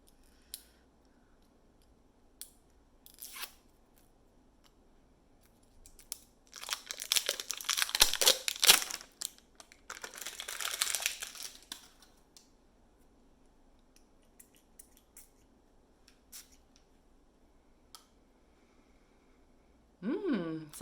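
A package of ocean-scented mist spray being opened and unwrapped, with close, quiet crinkling, snipping and tearing of wrapping in a few short bursts. A voice is heard faintly.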